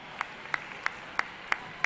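Six sharp, evenly spaced claps about a third of a second apart, close and fairly quiet, as award winners at a technology fair prize ceremony head up to the stage.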